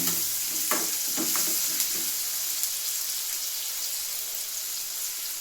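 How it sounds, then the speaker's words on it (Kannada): Onions sizzle in hot oil, a bright hiss that starts with a few stirring clatters and then settles into a steady, even crackle. "ಉಳ್ಳಾಗಡ್ಡೆ ಹಾಕೊಂಡು ಸ್ವಲ್ಪ ಎಣ್ಣೆಗ ಕೈ ಎಳಿಸ್ಬೇಕು"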